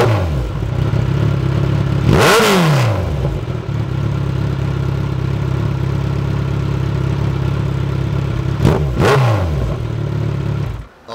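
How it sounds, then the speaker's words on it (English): A Kawasaki Z1000 motorcycle with Delkevic exhaust mufflers idles loudly up close, a deep steady rumble broken by one sharp rev that rises and falls, then later a quick double rev before it drops back to idle. "So I put the Delcovics back on. We'll do a sound test with this so you guys can hear what it sounds like"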